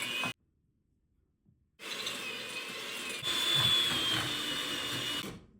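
An electric hand mixer runs at medium speed creaming butter with granulated sugar, a steady close whirring drone that cuts out briefly, then resumes and carries on continuously.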